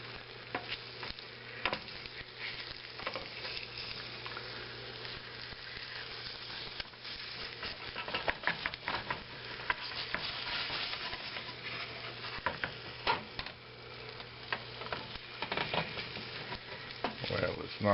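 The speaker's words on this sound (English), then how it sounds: "now you want to just take the eggs and fold them back over the cheese" Scrambled eggs with cheese sizzle softly in a pan while being stirred and folded over, with a low continuous frying hiss and scattered scraping clicks from the utensil.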